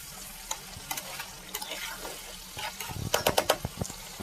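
Chicken with yogurt stir-fried in a pan for chicken kosha, a soft sizzle broken by intermittent scraping and clinking of a spatula that grows busier toward the end, no speech.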